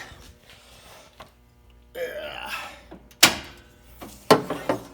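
Hood of a 1996-2000 Honda CR-V being opened, with clunks and metallic latch clatter, a sharp bang near the middle and another toward the end, amid scraping and handling noises.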